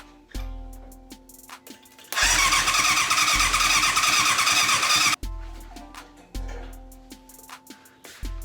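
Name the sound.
1988 Yamaha FZ750 motorcycle engine starting up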